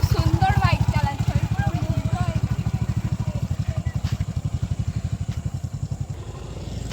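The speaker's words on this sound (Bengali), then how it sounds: "খুব সুন্দর বাইক চালাচ্ছে।" A motorcycle ridden by a learner chugs along with a steady, throbbing engine pulse close by, its rapid beat running the whole length, while a voice speaks briefly over it at the start.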